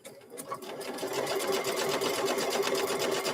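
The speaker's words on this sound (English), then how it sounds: "We're just taking and stitching up the raw edge on here" A sewing machine stitching up the raw fabric edge of a microwave bowl koozie whirs in a steady, loud, close run that builds after a brief start, with no talk.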